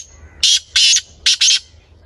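Partridges (teetar) calling in a village setting, four sharp, bright, raspy bursts in two quick pairs, close and loud against an otherwise quiet background.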